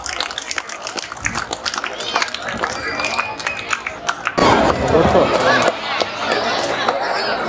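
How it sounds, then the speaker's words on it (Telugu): Audience applause and crowd chatter at a school's 20th anniversary event attended by an MLA, rising suddenly and loudly midway, with the hall noise continuing under a speaker's voice. "Please Bigg hands claps."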